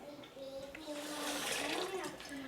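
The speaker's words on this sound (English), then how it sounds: "And then we're gonna add the water." Water poured into a pot of raw-packed sweet corn, a steady close rush with some bubbling and splashing, heard alone over a few seconds.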